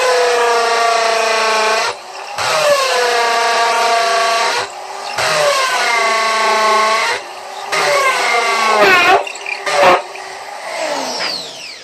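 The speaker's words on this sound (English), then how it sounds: "I take a 3/16 inch masonry bit and just drill through the concrete." A loud, high-pitched drill with a 3/16-inch masonry bit grinds steadily through concrete in several long runs, with brief pauses and a few knocks between them.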